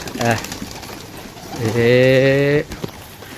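Two pairs of pigeons coo close by: a short coo, then after a pause a longer, louder, throaty warble lasting about a second, set against faint outdoor noise.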